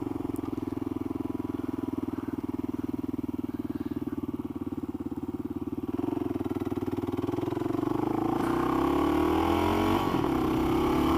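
A KLR motorcycle engine hums steadily while riding, then rises in pitch as it accelerates hard, loud and close throughout.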